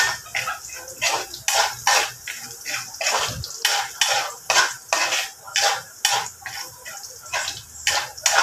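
Garlic stirred in a pan while sautéing for Filipino pork menudo, repeated clinking and scraping of a utensil against the pan in an uneven rhythm, close up with light sizzle underneath.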